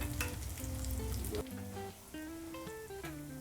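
Potato kebabs (aloo tikki) fry in a pan with a little oil, giving a continuous close sizzle that softens partway through, with no voices over it.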